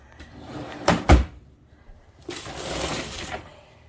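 A desk drawer slides open with a sharp wooden knock and rattle of contents, followed by a longer rough scraping slide, close and alone.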